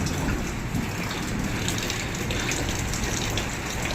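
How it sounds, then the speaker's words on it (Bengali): Steady rain falls during a thunderstorm in a dense, unbroken wash of patter with a faint low rumble underneath, and no voices. "বৃষ্টি পড়া শুরু হয়ে গেছে, আর মেঘও ডাকা শুরু হয়ে গেছে।"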